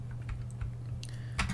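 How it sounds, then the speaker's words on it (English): X and Z keys on a computer keyboard, used for pedal input in a DCS F-15C Eagle flight simulator, give a few close, light clicks over a steady low hum, with no talk. "So I will use the X and Z keys on my keyboard to control my pedal"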